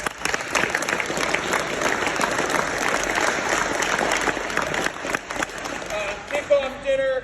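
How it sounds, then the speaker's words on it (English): Dense crowd applause fills a football banquet hall, steady and loud across the whole stretch with scattered cheers, tapering slightly near the end as a voice begins over it. "so I just want to say take time and clap for you guys"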